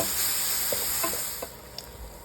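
Onions and tomatoes sautéing in a pan give a steady close sizzle and hiss, broken by a few soft stirring scrapes.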